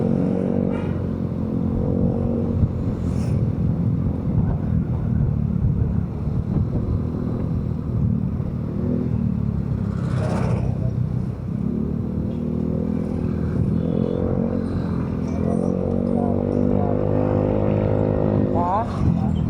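A loud Honda RS125 motorcycle engine drones steadily and close by for the whole stretch, with rising revs toward the end and wind buffeting the microphone, while people talk over it.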